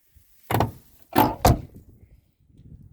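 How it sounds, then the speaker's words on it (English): A rusty 1970s Ford Thunderbird door being worked, a short metallic clunk followed by a heavier solid slam and a quick second thud, close and loud against near silence. "now just listen to how this thing closes, because this thing's actually pretty rusty"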